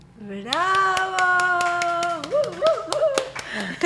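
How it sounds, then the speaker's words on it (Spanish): A studio audience on a talk show claps for a singer in sharp, scattered bursts during and after her sustained sung final note, with a voice rising over the clapping. "¡Aplausos de pie!"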